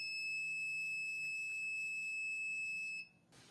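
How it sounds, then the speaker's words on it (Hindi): The buzzer of an Arduino-based GSM fire alert system sounds a steady, high-pitched electronic tone close up, cutting off abruptly near the end. "जैसे ये फायर डिटेक्ट करता है, रेड एलईडी इंडिकेट कर देती है कि फायर डिटेक्ट होगी हुई है और बजर भी ऑन हो जाती है"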